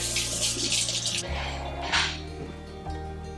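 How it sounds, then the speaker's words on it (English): Running tap water splashes over hands being rinsed at a kitchen sink, a close, loud rushing stream that shifts in tone as the hands move through it. "Let me just rinse my hands really quick."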